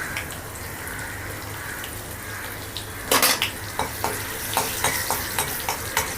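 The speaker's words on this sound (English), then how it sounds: "Saute this for a few seconds." Garlic, green chili and a pinch of asafoetida sauteing in a pan for a Konkani chivdi dal, a soft steady sizzle at first, then sharp rhythmic clinks and scrapes of a spoon stirring against the metal pan.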